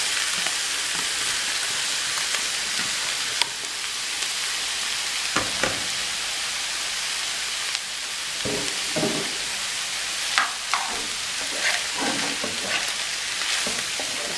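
Veggie chunks sizzling steadily in a hot pan for brown stew, a continuous loud hiss punctuated by occasional scraping stirs and clinks, with no talking.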